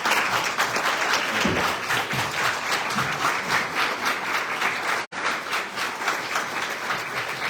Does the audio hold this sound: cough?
no